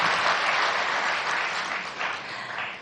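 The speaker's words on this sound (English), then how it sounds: "please give all the speakers a big round of applause" An audience at the 2019 IYPT closing ceremony in Tokyo applauds, a dense, even wash of clapping that holds strong throughout and tapers slightly toward the end.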